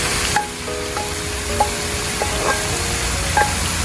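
Grated carrots for gajar halwa hitting a hot pan, a steady close sizzle and hiss with a few faint clinks of a utensil.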